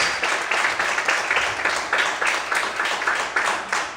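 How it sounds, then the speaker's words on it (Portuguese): Church congregation clapping louder during an evening worship service, a sustained rhythmic wall of applause pulsing in steady beats from start to end, with faint voices mixed in. "Mais forte as palmas, aleluia!"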